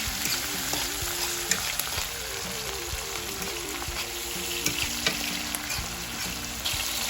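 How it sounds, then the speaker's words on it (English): Garlic and seasoning sauté in a hot pan with a loud, constant frying hiss and occasional crackles and stirring clicks. A faint melodic background tune runs underneath, and no one speaks. "I'll just saute all of this"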